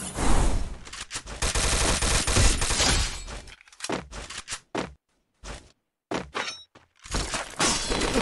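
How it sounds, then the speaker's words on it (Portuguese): Video game gunfire crackles in dense, rapid bursts of automatic fire with shattering impacts, then breaks into choppy volleys separated by brief silences, loud and without voices. "tomei tiro de alguma direção aí"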